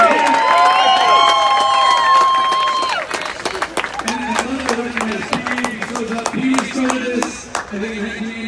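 An audience claps and cheers at a live show, with a dense burst of applause, some whistling and shouts at first, then thinning into scattered sharp claps mixed with voices.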